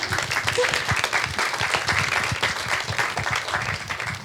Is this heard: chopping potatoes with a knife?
no